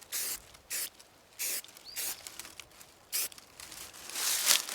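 Spray paint hisses onto a duck decoy in short bursts of roughly half a second, about six separate puffs with quiet gaps, ending in a longer spray, close and fairly soft.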